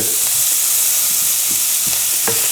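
Onions sizzle loudly in a hot pan while being stirred, a dense continuous frying hiss punctuated by several soft scraping strokes, close up with no voices.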